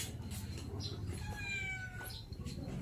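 Hungry cats meow repeatedly at close range, several overlapping cries over steady low street background noise, with no talking.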